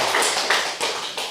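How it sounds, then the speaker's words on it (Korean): A church congregation claps together during a Sunday service, a dense, loud and steady burst of many hands that carries on without a break, with no talk. "우리 박수 한번 보내겠습니다"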